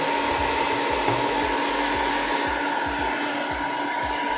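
A popcorn machine roasts chickpeas, its motor and hot-air blower giving a loud, steady whir with a faint rapid rattling of rolling chickpeas underneath, continuous and close throughout.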